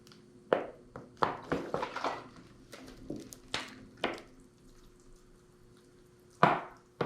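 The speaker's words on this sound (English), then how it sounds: "let's give it a little water" Water is poured onto bonsai soil in a pot holding a dwarf jade, giving sharp, irregular splashes and drips that come in clusters with quiet pauses between them, close by and alone.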